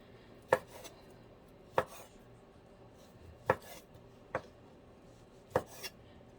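A knife chops Italian sausage into fairly large pieces for soup, giving five or six sharp, separate thuds against a cutting board at uneven intervals, close and clear over a quiet room.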